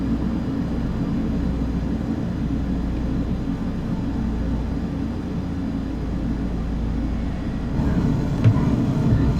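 Piper Tomahawk trainer's engine held at idle in a flight simulator game, a steady low drone with a continuous rumble that runs unbroken throughout, swelling slightly near the end, with no voices.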